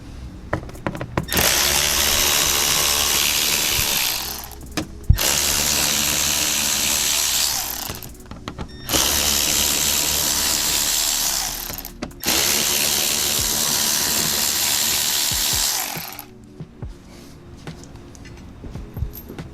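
Ratchet undoing 7mm bolts on a Corvette C7 tail light: four long bursts of rapid clicking, close and loud, separated by short pauses with small metallic taps and handling noises.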